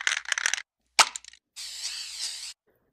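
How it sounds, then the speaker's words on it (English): Three short mechanical bursts with gaps between: a sharp clack-rattle, a quick snap, then a longer sliding hiss, a weapon reload in Grand Theft Auto San Andreas. "after you hear 2 reload sounds of some kind"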